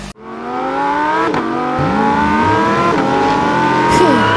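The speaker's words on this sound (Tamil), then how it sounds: "ஒரு வழியா கார் கிளம்பிருச்சு" Cartoon car pulling away, its engine revving loudly with a rising pitch throughout and a brief squeal partway through, close and continuous.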